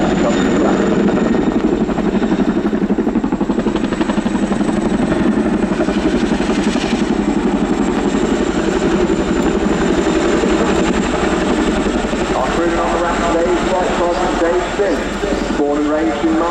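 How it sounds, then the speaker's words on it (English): RAF Boeing Chinook HC.6 twin-rotor helicopter setting down at a landing site during an air show display, its loud, steady rotor thrum and turbine whine filling the scene with a faint commentary voice underneath. "eventually dropping forward and down onto the landing site and monitoring the height of the aircraft as it comes to land."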